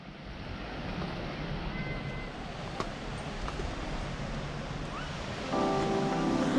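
Continuous roar of waves breaking on a beach in the south of France, steady and fairly close, with a brief tonal sound near the end.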